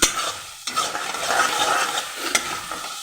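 Garlic chutney frying in a pan, with a spoon stirring and scraping through a steady sizzle in close, moderately loud strokes.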